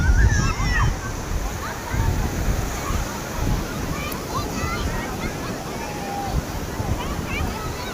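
Sea waves wash onto the shore at Somnath on the Gujarat coast, a steady rolling surf with swells and splashes, while people talk nearby over the water.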